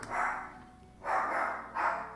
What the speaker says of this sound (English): both of the dogs might start barking